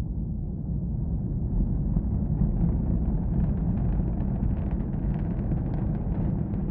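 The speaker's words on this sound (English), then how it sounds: "A beautiful ascent of a Falcon 9 rocket, kicking off our Wednesday morning." SpaceX Falcon 9 rocket climbing after launch from Cape Canaveral, a deep continuous rumbling roar heard from a distance that swells slightly and stays steady, with no voices.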